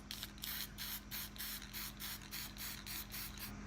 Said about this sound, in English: It's like spray paint.